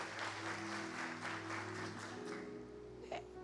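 Quiet, continuous applause from a church congregation, faint and fairly distant, with steady hum in the room and a brief louder sound near the end.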